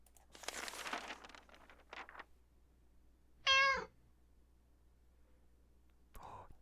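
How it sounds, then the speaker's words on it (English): A cat in the video game 60 Seconds, heard as soft rustling and pawing sounds, then one short, clear meow at middle distance against a quiet background. "we found a cat licking its paws"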